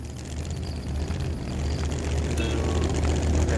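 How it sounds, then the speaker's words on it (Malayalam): A small airplane comes in to land in the video game Dude Theft Wars, its engine drone steady and loud, with a strong low rumble that builds slightly toward the end. "അങ്ങനെ വിമാനം ഇറക്കി"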